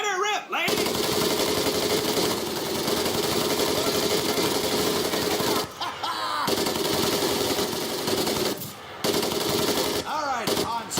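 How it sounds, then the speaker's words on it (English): Sustained M1919A4 .30 caliber machine gun fire in Medal of Honor: Pacific Assault, loud and continuous with a few brief pauses between long bursts. "M1919A430 caliber machine gun"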